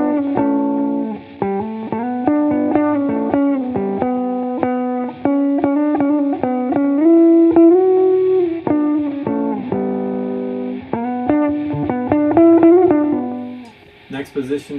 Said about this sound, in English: we're going through the first effect, which is just a boost effect